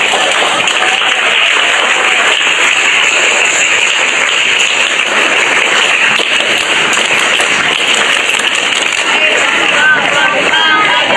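Scouts at an anniversary ceremony at a Tangerang junior high school clap together, a loud, dense burst of many hands filling the space continuously.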